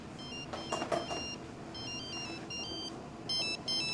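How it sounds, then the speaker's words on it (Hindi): A mobile phone ringtone for an incoming call plays at moderate volume, a bright repeating electronic melody in short phrases against quiet room background. "महक का फोन है"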